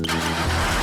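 A cartoon vehicle engine cranks and catches in a brief, loud burst that settles into a rough running rumble.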